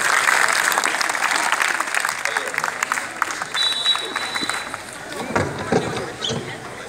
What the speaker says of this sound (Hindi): एक बार जोरदार तालियां से यामीन भाई का स्वागत।